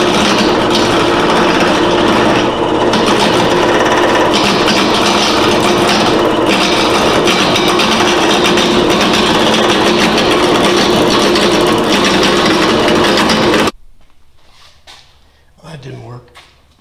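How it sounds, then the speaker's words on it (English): A lathe turns a block of 3-inch square stock on a small granite-top table restoration. A loud, steady machine roar with cutting rasp runs for about fourteen seconds, then cuts off abruptly and is followed by quiet movement. "I'm going to go over to the lathe and turn this piece of 3-inch square stock"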